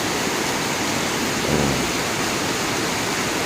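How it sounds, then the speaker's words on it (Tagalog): Steady, dense roar of heavy pre-dawn rain pouring down, a constant broadband hiss with a brief low rumble partway through. "sobrang lakas ng ulan"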